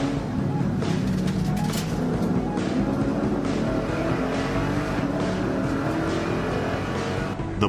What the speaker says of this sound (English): The Porsche GT3R, car number 1 of the Manthey racing team, rockets past the group of Audis